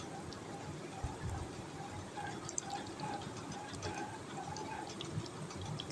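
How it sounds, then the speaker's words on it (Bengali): Mustard oil poured into a frying pan, a faint steady liquid trickle and gurgle close by with a low background hum and a couple of small knocks. "প্যানের মধ্যে আমি এখানে সরষের তেল দিয়ে দিলাম"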